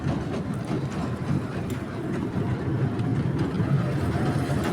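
A toy train ride at a village fair runs with a continuous rumbling, rattling drone, steady and fairly loud throughout.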